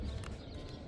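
Horses walking at an equestrian club in Kuwait, hooves clip-clopping close and fairly loud in a quick, busy rhythm over a brief moment.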